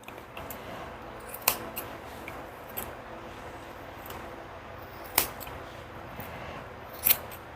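Scissors snip hair inside a Havanese dog's ears during a short pet haircut, a few sharp close clicks spaced irregularly over quiet background, with no talking.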